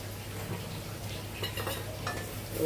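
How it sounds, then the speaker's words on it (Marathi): Green paste of coriander, chilli, ginger and garlic sautéed in oil with Agri masala and coriander powder, a soft continuous sizzle with quiet scraping stirs and faint clinks of a spoon against the pan. "तेलामध्ये चांगलं परतून घ्यायचं"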